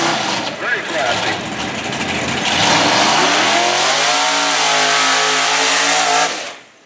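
A truck at the Eagle Field drag races revs hard, its engine note climbing steadily and then holding a loud, sustained roar before cutting off abruptly at the end.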